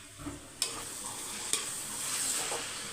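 Ginger garlic paste and onions frying in a pan, a continuous close sizzle with two sharp scrapes of the spoon against the pan as they are stirred; no one speaks.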